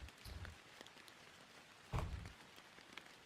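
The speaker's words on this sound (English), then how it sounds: "So, am I hearing rain sound? Is that white noise? Yeah, it's rain." Rain from a streamed recording plays faintly as a soft steady patter, with a couple of louder muffled thumps, one near the start and one midway, and no voices.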